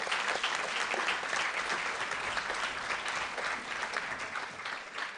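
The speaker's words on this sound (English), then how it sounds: "let's give them a little round of applause as well" Sustained applause from a large crowd at a state FFA convention session, steady and dense across the whole stretch with no pauses, close and fairly even in loudness.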